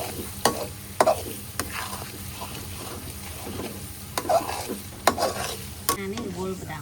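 Chili and mushrooms stir-fry in a pan over low heat, a continuous gentle sizzle broken by several sharp scraping clicks of a utensil against the pan.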